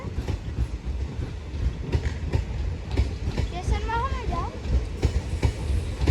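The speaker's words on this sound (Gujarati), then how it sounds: "બાકી જવો સાંતરાગાજ બહુ લાંબી ટ્રેન હે મિત્રો" A long Santragachi train rolling through Jamjodhpur railway station, a loud continuous rumble with rhythmic clickety-clack of wheels and a brief metallic squeal, close by, with voices talking over it.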